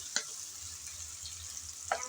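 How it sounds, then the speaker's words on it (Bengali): Chopped onions frying in a pan until light brown, a quiet, even sizzle broken by two brief stirring knocks, one near the start and one near the end. "পেঁয়াজ কুচি দিয়ে হালকা ব্রাউন কালার করে ভেজে নেব।"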